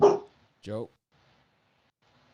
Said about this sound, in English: Stop barking. Dogs are barking.